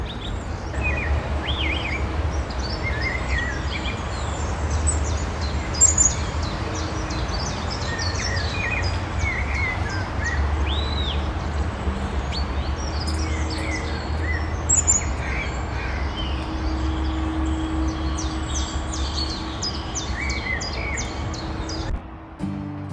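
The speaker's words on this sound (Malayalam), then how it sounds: "ഇതാ ഇപ്പോഴും ഇവിടെ കിളികൾ നമ്മളോട് കഥ പറഞ്ഞുകൊണ്ടിരിക്കുക" Small birds chirp and tweet again and again, light scattered calls over a steady outdoor background hum in Vancouver in autumn, with no talking.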